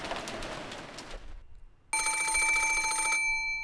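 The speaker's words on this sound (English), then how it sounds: "the piercing sound of a phone rang through the room" An antique extension telephone in the Umineko game rings with a bright, piercing electric bell trill, loud and close, starting abruptly after a brief softer passage and continuing unbroken for over a second.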